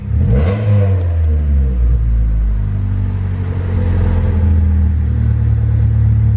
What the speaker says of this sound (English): you should be able to rev it up